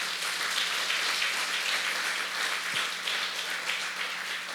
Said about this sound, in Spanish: Dale un aplauso fuerte al Señor, hermano.